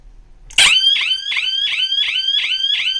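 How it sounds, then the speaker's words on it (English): A laser tripwire alarm's siren kicks in abruptly and wails loud and close in a steady repeating rising sweep, roughly two cycles per second, with no voices. "It works fine, both the siren and the strobe lights."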